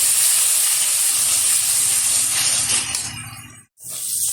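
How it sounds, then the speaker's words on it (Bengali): Spice paste for mutton curry frying in a pan, a steady loud hiss and sizzle that runs almost continuously, dips to a brief near-silence late on, then resumes. "এবার ভালোভাবে কষিয়ে নেব।"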